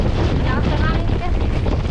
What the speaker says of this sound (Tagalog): Lakas ng hangin ka.